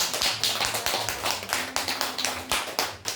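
A church congregation claps for a guest pastor at an evening revival service, a steady run of sharp hand claps filling the hall with no talking.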